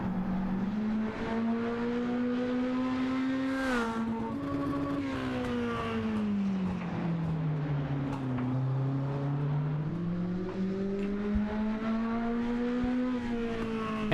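A mini-stock race car laps an oval track at speed, its engine droning and rising and falling in pitch through the turns, steady and moderately loud with no voices.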